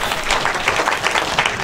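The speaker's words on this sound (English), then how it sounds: "Give him a nice round of applause." Brief burst of audience applause during a community talk, a dense patter of clapping from a seated crowd, moderately loud and without speech.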